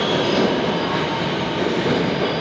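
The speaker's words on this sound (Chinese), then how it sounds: "OK， 地铁来了。" A Beijing subway train on the Changping line arrives with a loud, steady rumble of rolling wheels and carriage noise, close by and continuous throughout, with no voices.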